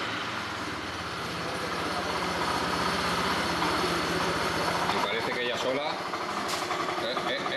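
A Suzuki Intruder cruiser motorcycle with 40,000 km runs close by, its engine idling with a steady rumble that picks up briefly with a little throttle, as someone speaks over it.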